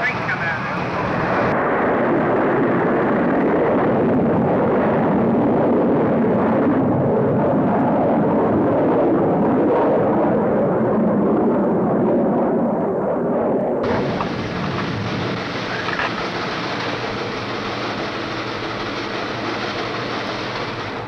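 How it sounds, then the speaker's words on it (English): The rocket carrying the Explorer 1 satellite launches with a loud, sustained roar that rumbles steadily for about twenty seconds, with a narrator talking over it. "The missile is in flight"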